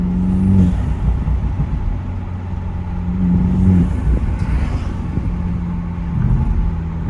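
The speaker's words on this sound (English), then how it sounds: "Get a lot more crackles and pops on the overrun." A Toyota Supra 2.0 fitted with an aFe Takeda exhaust, in sport mode, drones low and steady, with scattered crackles and pops on the overrun riding over the engine note.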